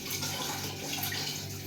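Water running steadily, like a tap or a pour into a drinking glass, with filter coffee being made nearby; a continuous close, moderately loud stream with no talking.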